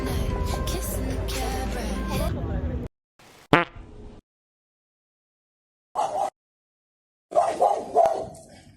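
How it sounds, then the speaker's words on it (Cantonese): Puppies barking in short, sharp bursts separated by silent gaps, loud and close, after a dense stretch of background sound at the start. "呢啲小狗都幾可愛，就係嚇人啊"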